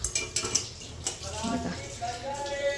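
Tea made in a saucepan at home is poured into cups. Metal and ceramic clink close by, then a liquid stream rises in pitch as a cup fills.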